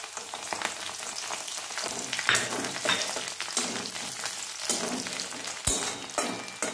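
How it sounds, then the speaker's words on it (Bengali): Chopped garlic sizzles and crackles in hot oil, a steady close frying hiss broken by stirring scrapes and one sharp clack near the end, with no talking. "তেলটা গরম হয়ে গেছে দেখো, এবার আমি এতে দিয়ে দেবো মানে কুচি করা রসুন"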